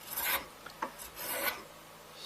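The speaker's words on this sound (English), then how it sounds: "I can get a good shaving on the left edge and the right edge" A Stanley 100-1/2 block plane with a curved iron takes a few soft rasping strokes across wood, faint and close, each shaving pass a brief scratchy swipe with quiet gaps between.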